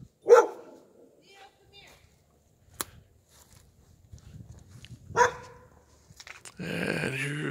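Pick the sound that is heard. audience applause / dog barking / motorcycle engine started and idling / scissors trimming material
dog barking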